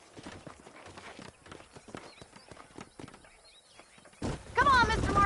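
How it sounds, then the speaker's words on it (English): Horse hooves clip-clop steadily in the Red Dead Redemption 2 video game, a brisk close rhythm under speaking voices, ending with a louder burst and what sounds like a whinny. "These are fine horses."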